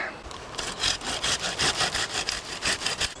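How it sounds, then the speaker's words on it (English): A hand saw cuts back privet hedge branches on an allotment, with steady, loud back-and-forth rasping strokes in a regular rhythm, close up and with no talking. "So I need to give this a trim and cut it back quite a bit."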